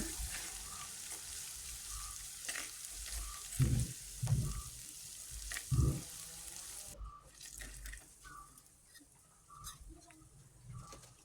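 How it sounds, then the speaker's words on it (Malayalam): Three medium sliced onions are added to ginger and garlic frying in a pan for a Kerala-style clam meat roast, with a soft continuous sizzle and several louder stirring bursts up close. "അതിലേക്ക് ഒരു മൂന്ന് മീഡിയം സവാള എടുത്ത് അരിഞ്ഞ് വെച്ചിട്ടുണ്ട് അതിട്ട് കൊടുക്കുന്നുണ്ട്"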